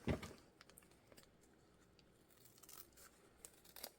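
Quiet snipping and rustling as scissors trim a small piece off a fabric-covered junk journal notebook made from wonky papers, with a few brief cuts and a louder crinkle near the start and end, no talking.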